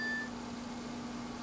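A phone notification beep sounds briefly at the very start, a short electronic tone over a faint steady hum in a quiet room.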